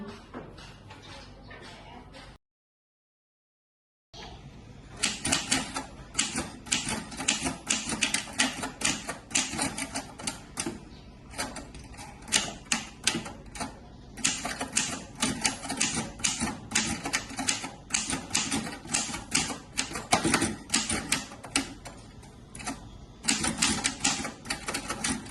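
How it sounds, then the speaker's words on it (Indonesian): A typewriter types out a proclamation text in a school drama about Indonesian independence, loud close rapid keystrokes in uneven bursts after a brief silent gap near the start. "Sayuti Melik pun mengetik teks tersebut."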